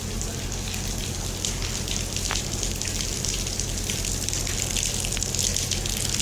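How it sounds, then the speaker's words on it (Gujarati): Steady rain falls on surfaces during an evening Navratri gathering, a dense, continuous hiss with scattered drop taps throughout, fairly close and even in level, with no talking. "વરસાદ ચાલુ જ છે"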